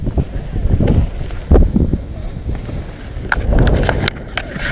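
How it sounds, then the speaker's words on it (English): Strong gusty wind at a skydive buffets the microphone in loud rumbling bursts, with scattered clicks and knocks near the end. "I think it's a little windy."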